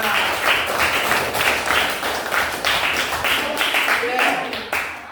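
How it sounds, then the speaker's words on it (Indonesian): A classroom of students claps for group 4, steady close-up clapping running the whole stretch, with a teacher's voice talking over it. "Tepuk tangan buat kelompok 4."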